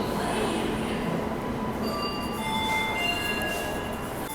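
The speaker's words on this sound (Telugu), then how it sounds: "ఈ ట్రైన్ అయితే 15 అవర్స్ లేట్లో అయితే ఇప్పుడే అరైవ్ అయిందండి చెన్నై సెంట్రల్కి" Shalimar–Chennai express arriving at Chennai Central station, a steady loud rumble of rolling carriages with faint metallic squeals and clinks throughout.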